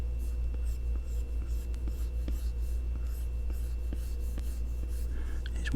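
Stylus scratching and tapping across a tablet screen while cleaning up a sketch in Procreate, close and continuous with small repeated strokes, over a steady low hum.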